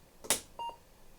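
An electronic machine being switched on gives a click followed by a short, clear two-tone beep, close and alone in a quiet room.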